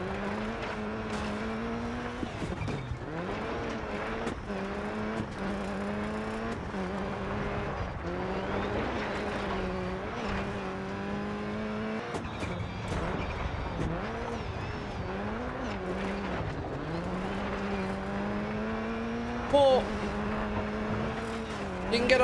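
A Subaru Impreza WRC2001 rally car in DiRT 4 revving hard through a powerslide, the engine note rising and falling in repeated surges with gear changes and tire scrabble, loud and close under intermittent commentary.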